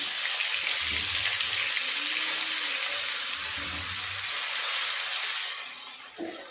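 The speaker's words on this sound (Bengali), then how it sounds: "আর যে কপিস আছে একবারই ভেজে নেব।" Kohlrabi pieces frying in hot oil, the same oil used for fish, give a steady, close, broadband sizzling hiss that continues evenly before easing slightly near the end.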